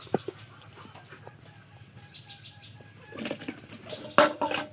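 Pigeons flap their wings in quick bursts of fluttering, faint at first and then louder and closer near the end, over quiet background sounds and scattered bird noises.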